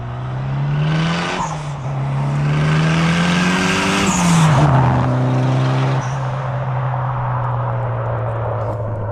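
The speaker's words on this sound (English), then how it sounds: "So now we about to get a few pulls of the Evo just to hear that turbo flutter." A turbocharged Mitsubishi Evo roars through loud, sustained pulls, the engine note rising and falling, with a fluttering turbo whoosh as the throttle lifts between runs.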